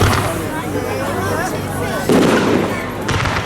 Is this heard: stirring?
no